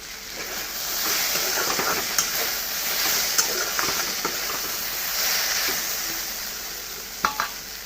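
Taro stolons (loti) frying in a pan, a steady close sizzle and hiss with occasional sharp clicks and scrapes from stirring throughout.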